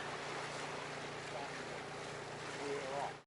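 A boat cruises slowly into a mooring dock in the Marlborough Sounds on a winter day, with a steady hiss of wind and water rushing past throughout.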